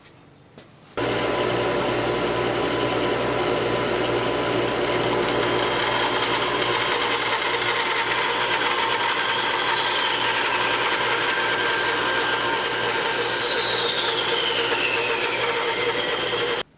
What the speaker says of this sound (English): Now I'm just going to roughly cut out the shape of the handle on the bandsaw.